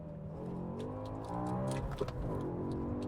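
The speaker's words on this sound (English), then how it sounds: "Once again, the rev match on this, oh, brilliant." A BMW M5 with a manual gearbox blips its engine to rev-match a downshift: a steady, close engine drone swells sharply in pitch and loudness halfway through, then holds a strong, rich howl.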